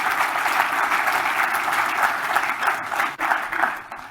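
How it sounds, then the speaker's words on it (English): An audience at a network automation tech conference gives a round of applause for Alex Gittins, a steady crowd clapping that stays full and even before thinning slightly at the end. "Big round of applause for Alex Gittins"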